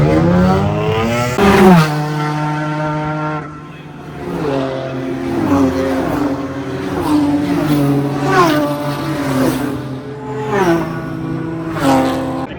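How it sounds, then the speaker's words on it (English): Race cars roar past the start line of a motorsport track in South Africa, engines rising and falling in pitch as several pass in quick succession, loud and close, with a steady rumble between passes. "Crazy, the speed of the cars passing by."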